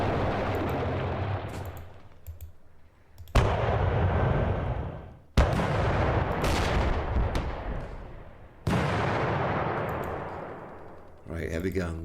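Heavy guns and artillery fire in the Panzer Campaigns Kiev '43 wargame go off as several loud, abrupt blasts, each decaying into a long rumbling tail.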